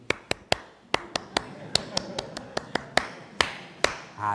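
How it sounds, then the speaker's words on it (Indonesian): Scout-style rhythmic hand clapping, tepuk pramuka, performed by one person: a patterned sequence of sharp, close claps with short pauses, about a dozen strikes in quick groups, alone without talk. "Tepuk pramuka itu namanya"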